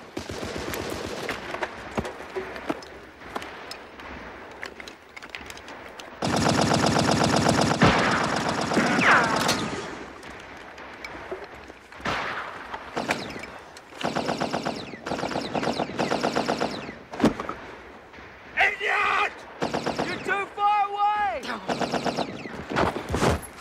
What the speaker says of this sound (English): they're right under those machine guns